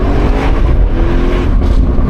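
A 2017 Audi RS6 C7 accelerates on the road, its engine roaring loudly and continuously from inside the car, with no talking.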